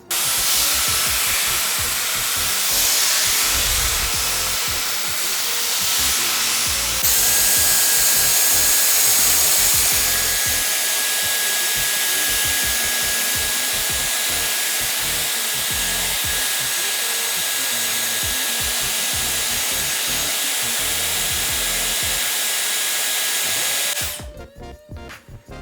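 Dyson Airwrap hair styler with the foam smoothing brush blowing a loud, steady high-pitched airflow whine close up, running continuously for most of the stretch before cutting off near the end.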